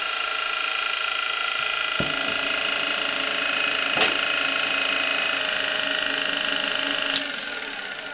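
A Zelmer vacuum cleaner motor, type 300, runs steadily on a bench test after both carbon brushes were replaced, a loud constant whine with a sharp click near the start and middle before it winds down slightly at the end.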